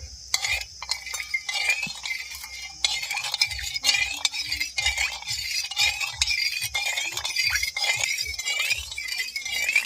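A spoon stirs agar agar powder into a sweetened milk pudding mixture in a pot, making steady close scraping and clinking strokes throughout with no one speaking.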